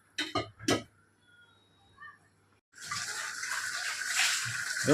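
A few sharp knocks and a brief lull, then water gushes steadily from a household tap, a loud continuous hissing flow that grows slightly stronger toward the end.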